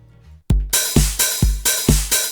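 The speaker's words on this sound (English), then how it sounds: "We can spice it up with an offbeat open hat." A programmed FL Studio drum loop pounds out kick and snare while a bright, sizzling open hi-hat rings on the offbeats, steady and loud.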